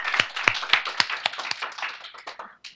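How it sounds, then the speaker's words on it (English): A small audience at a waste-free living talk claps in a sparse, brief round, with individual hand claps standing out distinctly before fading. "Let's give them another round of applause."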